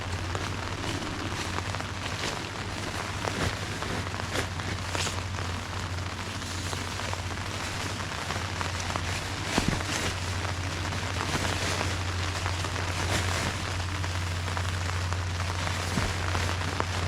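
Rain drums on a tent with a waterproof liner, a steady close patter with occasional louder drops over a constant low hum, lasting throughout with no talking.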